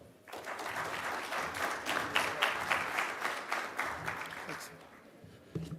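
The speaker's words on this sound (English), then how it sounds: "Big round of applause." Steady applause from a sizable audience at a cybersecurity panel event, dense and continuous for several seconds before tapering off, with faint voices mixed in.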